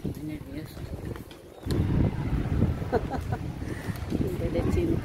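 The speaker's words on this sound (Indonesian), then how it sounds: "Angin kenceng teman-teman." Strong wind blows outdoors in gusty roaring surges that swell louder after the first second and a half, with voices talking now and then over the rumble.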